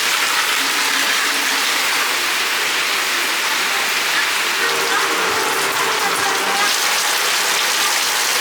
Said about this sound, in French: Une petite pluie s'est mise à tomber.